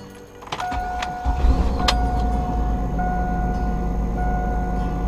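Idling engine of a heavily modified van with costly mechanical work, a steady low rumble holding close and loud after starting up, with a faint whine and a couple of clicks early on, no talk.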